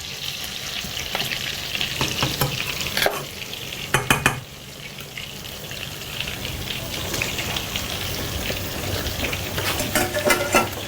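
Potatoes frying in melted butter in a pan give a continuous close sizzle with crackles, stirring scrapes and a few sharp clatters of a utensil, with no talk.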